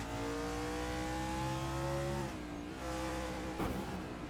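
Race cars roaring off a green-flag start at Phoenix in a racing video game, a loud field of engines revving and climbing in pitch together, with a brief sharp burst near the end and no voices.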